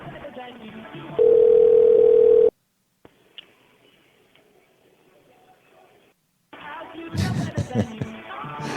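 A telephone hold tone plays a loud, steady, unbroken pitch for about a second, then the line drops to near silence with faint clicks before muffled noise returns.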